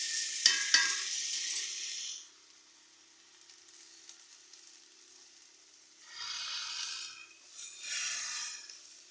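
Washed broad beans (avarakkai) hit a pan with a small dried chilli and are stirred, giving a bright sizzle with scraping strokes at the start that fades to a low hiss, then returns in two later bursts of frying and stirring.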